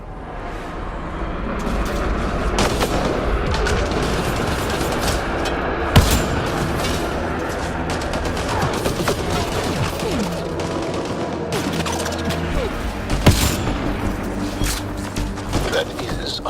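Gunfire in Mass Effect: Andromeda, with repeated sharp shots and a few heavier cracks over a continuous combat din and mechanical noise.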